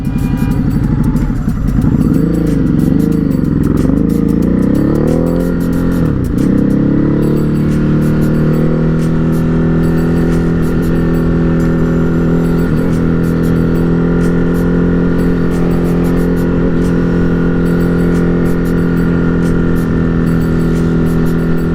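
A Ducati Hypermotard 950 RVE motorcycle rides along a country road, its engine droning steadily and loud throughout, pitch wavering with throttle changes early on before settling into an even cruise with wind rush.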